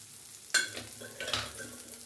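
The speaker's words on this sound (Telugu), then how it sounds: "ఇట్లా ఆయిల్ వేసుకొని బాగా ఎర్ర కాలుసుకుందాం" Food hits hot oil in a pan with a sudden sharp sizzle, then stirring scrapes and a lighter crackle of frying that carries on, close and without talk.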